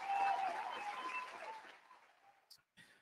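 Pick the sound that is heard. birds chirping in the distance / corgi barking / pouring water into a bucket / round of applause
round of applause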